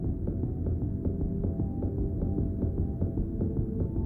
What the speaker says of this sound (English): All these little red spheres are the cells of the future heart. One after another, they come alive and begin to beat in unison.